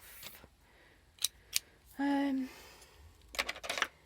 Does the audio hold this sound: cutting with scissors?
yes